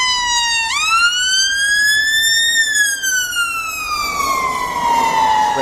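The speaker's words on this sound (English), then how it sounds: "Wait for the ambulance to go past." An ambulance siren passes close by, a loud continuous tone that rises sharply, sweeps steadily higher, then slides lower as the vehicle moves away.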